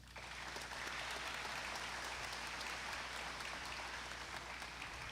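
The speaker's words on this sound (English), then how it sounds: "Give them a round of applause, please." An audience applauds student speeches at a leadership military academy event, a steady, dense wash of clapping that holds evenly throughout with no voices over it.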